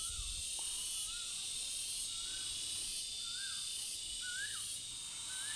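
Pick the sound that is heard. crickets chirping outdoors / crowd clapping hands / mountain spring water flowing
crickets chirping outdoors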